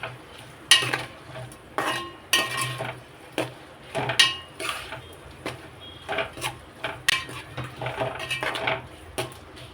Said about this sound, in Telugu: ఆనియన్స్ అండ్ అల్లం వెల్లుల్లి పేస్ట్ 2 ఒకేసారి ఇలా ఫ్రై అవుతాయి అన్నమాట